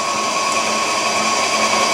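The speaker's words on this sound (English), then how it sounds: "I had the mixer, so I just bought the attachment. I'm going to grind this up" A stand mixer with a meat grinder attachment grinds beef, giving a steady, even motor whir at close range with no talking.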